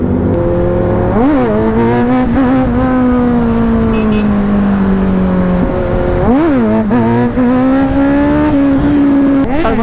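A Kawasaki Z900 superbike engine revs hard during a wheelie, a loud, close, buzzing roar that surges up in pitch twice between steadier sustained stretches.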